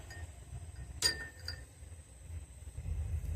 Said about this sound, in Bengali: এবার দিয়ে দিচ্ছি কয়েকটা আইস কিউব।